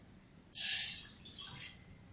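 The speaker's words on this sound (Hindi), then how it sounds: "वेसल में आप 1 कप पानी ऐड कीजिए।" Water, about one and a half cups, pours into a vessel for detox turmeric tea: a sudden splashing rush that starts abruptly and trails off into softer trickling, close and fairly quiet, with no talking.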